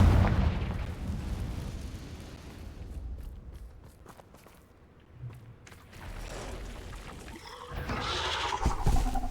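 Fire spells like Confringo explode in the game Hogwarts Legacy with deep, booming bursts and rumbling blasts near the start and again near the end. Quieter footsteps and small pops fill the gap between them.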